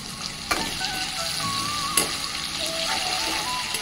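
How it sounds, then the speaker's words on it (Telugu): Onions sliced lengthwise and curry leaves fry in hot oil with a steady, close, loud sizzle. A couple of sharp utensil clicks against the pan cut through the sizzle. "ఇవి బాగా వేగనిద్దాం."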